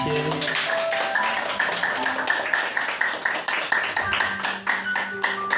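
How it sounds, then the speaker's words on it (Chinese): A class of choir students applauds themselves: steady, dense clapping from many hands, close and fairly loud, with faint voices and a few stray sung notes underneath. "好，请给自己掌声鼓励一些。"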